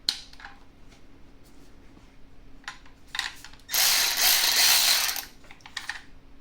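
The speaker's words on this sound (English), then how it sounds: "You could use it like a regular ratchet" Milwaukee 3/8-inch ratchet clicking in a few short bursts, then a loud sustained whirring stretch in the middle, near and alone with no talk.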